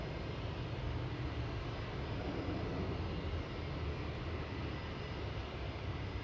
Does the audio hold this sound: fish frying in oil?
no